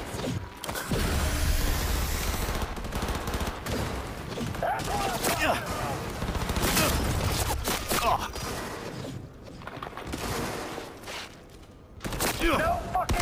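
Bursts of gunfire from weapons in a Cyberpunk 2077 firefight, rapid shots and mechanical clatter with loud stretches that ease off and then return, with voices speaking over part of it.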